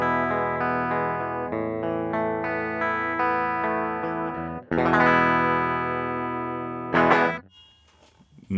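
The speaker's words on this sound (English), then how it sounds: "this is just a straight dry signal that goes into the computer" A dry, unprocessed electric guitar signal runs straight into a computer, playing a run of clean sustained notes, then a strummed chord and a sharp scrape near the end, close and moderately loud.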